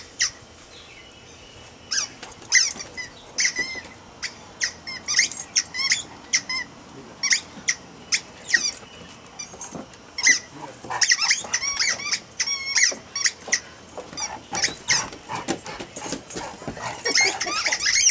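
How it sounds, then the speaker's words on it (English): A squeaky dog toy squeals in rapid, irregular bursts as a dog plays with it, loud and close, with brief pauses between clusters of squeaks and no talk over it. "That squeaky thing is just... That is a heck of a squeak."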